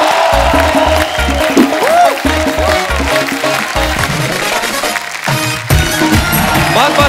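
A studio audience on The Kapil Sharma Show claps and cheers steadily as a guest is welcomed, with loud sustained applause under bright background music and occasional crowd noise.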